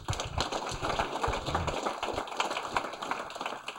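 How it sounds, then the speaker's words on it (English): Conference audience at React Boston 2017 claps for themselves at the close of the day, a moderate, fairly sparse round of hand claps with some scattered taps. "So give yourselves a round of applause."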